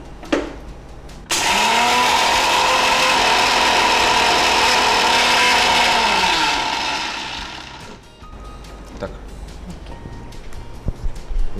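A mixer grinder whirs at a steady, loud, high-pitched roar for several seconds while grinding pepper spices into powder for a mushroom pepper dry, then winds down and stops.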